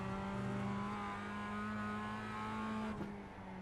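Mazda MX-5 in the iRacing simulator, a steady engine drone with stable harmonics holding through the clip, then a brief dip near the end as the note shifts, heard alone without talk.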